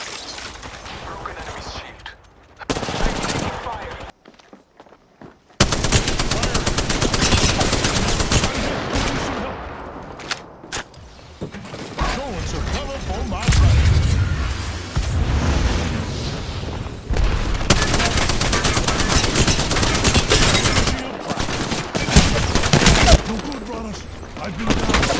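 Rapid gunfire and bursts fill a video game match, loud and nearly continuous with brief gaps, some heavier booms mixed in.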